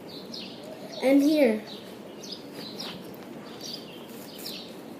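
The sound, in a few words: birds singing and chirping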